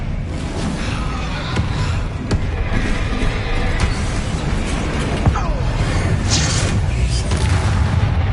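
Bombarda and Confringo spell blasts in Hogwarts Legacy, a dense run of loud booming impacts and crashes over a continuous game soundscape, with a voice calling out spell names.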